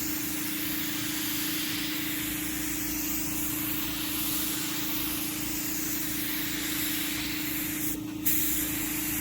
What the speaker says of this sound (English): You're gonna spray about 6 to 8 inches off the surface in a slow sweeping pattern.